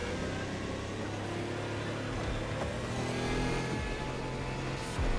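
Hyperion XP-1 car accelerating with NOS in a racing video game, a sustained engine roar with rising tones that holds steady at moderate loudness throughout.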